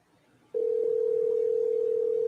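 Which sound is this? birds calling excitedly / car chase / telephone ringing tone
telephone ringing tone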